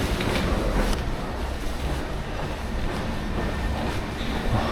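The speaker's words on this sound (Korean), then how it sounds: "저는 이제 지하철역에 도착을 했고 6호선을 타고 몽파르나스 역으로 이동을 할 겁니다" A line 6 Paris metro train rumbles and roars continuously, loud and close, with a dense rattling rush that stays steady throughout and no voices.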